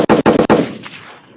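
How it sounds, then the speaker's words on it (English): Three sharp gunshots at a funeral ring out in quick, evenly spaced succession, loud and close, followed by a fading echoing tail. "Followed by gunshots."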